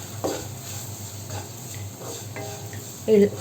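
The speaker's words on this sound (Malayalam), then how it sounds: "ഇനി ഇതൊന്ന് നന്നായിട്ട് ഇളക്കി യോജിപ്പിക്കാം" Garlic pickle stirred in a pan over a low flame, soft scraping strokes and faint sizzling, with a few sharp clinks of a spoon against the pan, close and fairly quiet.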